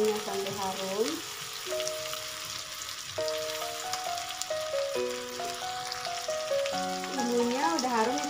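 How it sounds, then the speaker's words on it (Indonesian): Spice paste sautéing in a pan for an eggplant and salted squid dish: a steady, soft frying hiss runs the whole time, partly buried under loud melodic background music. "tumis bumbunya sampai harum"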